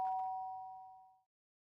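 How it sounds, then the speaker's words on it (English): A single doorbell chime from the Danganronpa video game rings out clearly as a bright sustained tone that fades away over about a second, then silence. "The sharp sound of the doorbell pierced my hippie head"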